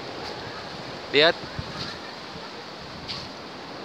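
Surf at Senggigi Beach in West Lombok gives a steady, even wash of broadband noise with some wind, and a single short spoken word cuts in briefly.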